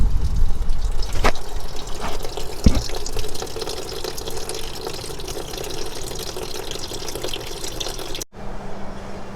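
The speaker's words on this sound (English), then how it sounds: "Once the system is cool to the touch, go ahead and drain it again." Coolant drains from the radiator of a 1937 Ford Slantback, a steady close splashing stream of liquid that runs almost without break, with a brief cut near the end before the flow carries on.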